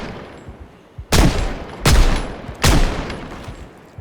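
Three loud gunshots in a zombie survival video game, Project Zomboid, crack out about a second apart, each followed by a decaying echo.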